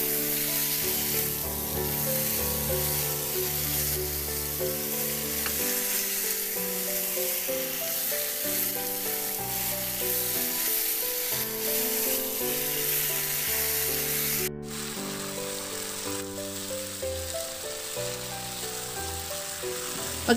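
Pork liempo stirred and fried in a pan with soy sauce, oyster sauce, salt and pepper as the sauce reduces; a loud, dense sizzle with stirring scrapes continues throughout under background music.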